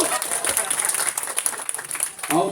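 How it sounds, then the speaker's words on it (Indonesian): Applause at a community Halal Bihalal gathering, a brief burst of many hands clapping at moderate loudness, with a voice speaking over it near the end. "Tepuk tangan lagi."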